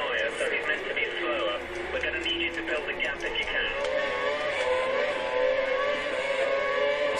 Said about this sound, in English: So coming down to the main straight here, I'm trying ever so hard to close down on Sebastian Vettel